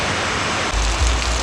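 Steady rain falls outdoors in a rural Thai village, a loud, continuous wash of drops with a deeper rumble joining partway through and no voices.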